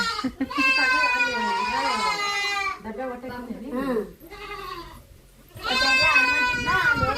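A village flock of sheep and lambs heading home in the evening bleats loudly and close, with long wavering calls overlapping one after another and only a short lull before more cries.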